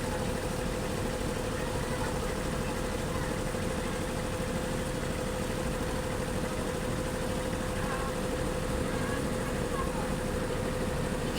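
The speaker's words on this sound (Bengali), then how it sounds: "রাস্তা তৈরি হচ্ছে, পিচ রাস্তা।" Road-building machinery laying an asphalt road runs with a continuous loud engine drone and vibration, a steady nearby rumble that holds unchanged throughout.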